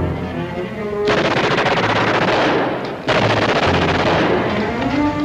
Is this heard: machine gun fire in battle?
yes